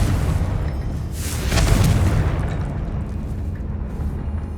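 A Confringo fire spell bursts in Hogwarts Legacy, a single deep boom swelling mid-clip over a rumbling background and then fading.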